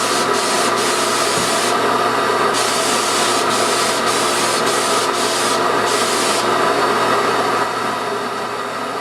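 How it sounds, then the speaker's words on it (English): Steady, continuous rubbing and scraping of sandpaper on oak stair treads during a staircase touch-up, loud and close, with no pauses or talk throughout. "I just sanded a couple spots, a little touch up"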